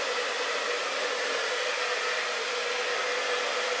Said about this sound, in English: And now I'm drying Angie's hair